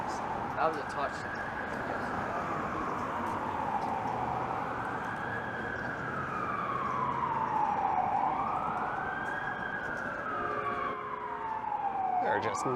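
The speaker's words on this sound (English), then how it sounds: "There are just non-stop sirens today." A wailing emergency siren, likely a fire truck, sweeps up and down in long slow cycles on Yonge Street in downtown Toronto, loud and steady over constant city traffic rumble.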